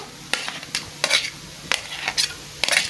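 Vegetables go into hot white oil for Maggi noodles, with a steady sizzle under repeated scraping stirs of a spoon against the pan, close and rhythmic.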